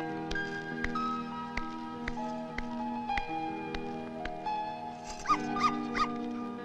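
A dog in a car gives short yips and whimpering cries that repeat in an irregular rhythm over steady background music, moderately close, with a cluster of higher whines near the end.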